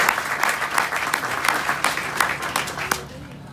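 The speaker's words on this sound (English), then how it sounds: "Give them a round of applause for joining us here today." An audience at an event marking the completion of a sports and entertainment arena applauds, a dense, steady wash of many hands clapping with a few sharp louder claps and a faint voice underneath toward the end.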